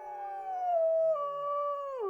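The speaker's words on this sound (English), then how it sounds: "A place that had not heard a wolf howl to speak of for 60-some years" A single wolf howls in the wilds of Yellowstone, one clear sustained tonal call lasting about two seconds that slides gradually downward in pitch and drops off at the end, heard alone without voices.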